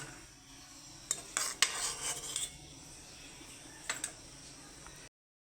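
Boiled katla fish pieces are lifted and strained out of the water with a utensil, giving quiet scattered clinks and scrapes against the pan in two short bursts, followed by silence.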